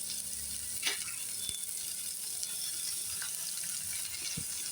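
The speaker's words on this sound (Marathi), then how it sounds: "आता ही देखील छान अशी परतून घेऊया।" Finely chopped fenugreek leaves sautéing in a pan with onion, a faint steady sizzle with a few soft scrapes and taps of a spatula against the pan.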